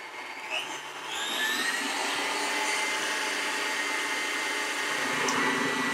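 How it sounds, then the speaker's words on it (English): An electric mixer beats egg whites with sugar toward stiff peaks for French chocolate mousse, a steady high whirring drone that rises in speed after the first second and runs on evenly, close and alone. "Now I'm going to turn this up and we're going to let it beat until we get to stiff peaks."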